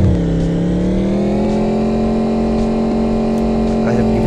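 An offroad taxi car engine in an Android mobile driving game set on a hill station, a steady loud synthetic drone slowly rising in pitch as it revs, continuous and up close.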